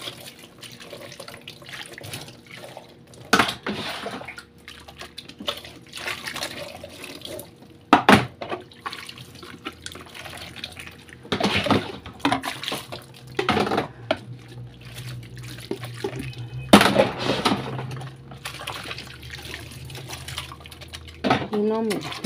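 Water runs from a kitchen tap while soapy dishes are rinsed, with splashing and clattering bursts over a steady flow and someone talking intermittently.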